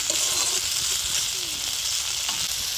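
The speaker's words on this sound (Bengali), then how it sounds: "ভালো করে মশলাটা আবার কষিয়ে নেব।" Spice paste and finely chopped tomatoes sauté steadily in hot oil for a new-potato curry, giving a loud, continuous sizzle with faint stirring scrapes throughout.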